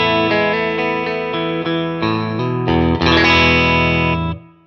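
Clean electric guitar through a REVV D25 amp capture with a Creamback 2 cabinet: strummed sustained chords ringing steadily and close, a brighter fuller strum near the end, then a quick fade, no talking.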